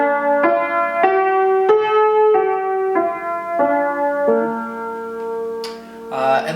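A sung vocal exercise pattern on sustained notes, climbing a triad and walking upward to the major seventh just short of the octave, each step a clearly separated note in steady rhythm, with a brief noisy burst at the end.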